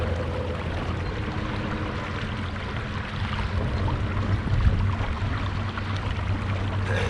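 A Bixpy electric motor pushing an Old Town Sportsman Autopilot 136 kayak at half throttle, against current: steady low hum under constant rushing water and hull splash, close and even with slight swells midway.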